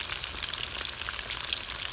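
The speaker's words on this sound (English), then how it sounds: "You golden the potatoes." Potato pieces fry golden in a hot pan of oil, giving a steady, dense sizzle and crackle that carries on evenly without pause, close up and alone.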